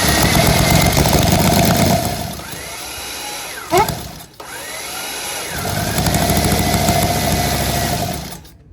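A custom five-cylinder motorcycle engine at a classic bike show fires up and runs loudly, dipping and sputtering briefly in the middle before revving strongly again, close by.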